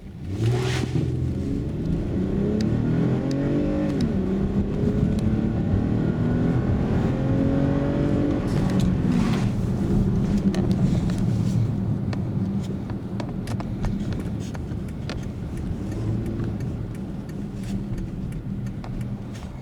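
A 2013 Toyota Highlander with a 3.5 V6 converted to run on Landi Renzo LPG pulls away and accelerates, its engine note rising steadily and staying loud and close throughout.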